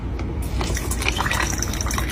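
Liquid pours steadily while milk tea is being made, a close, continuous trickling stream with small splashes and no speech.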